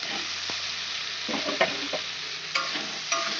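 Masala fried in an oil-filled pan is stirred with a spatula, giving a steady close sizzle broken by several sharp scraping knocks of the utensil against the pan.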